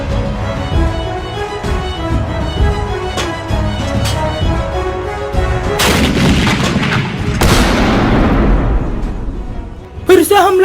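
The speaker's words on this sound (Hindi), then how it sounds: "हमारी बाहुबली तोपों से उन पर हमला करो।" Cartoon cannon fire in a pirate battle, with a string of sharp booms followed by two big blasts that trail off into rumbling, mixed with the sound of characters talking.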